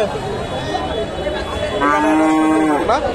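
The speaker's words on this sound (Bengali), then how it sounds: "ফ্রিজিয়ান বকনাটাও সুন্দর, মোটামুটি ভালো মানের বকনা" A Friesian heifer at a cattle market gives one loud, drawn-out moo close by, rising out of a busy murmur of market voices.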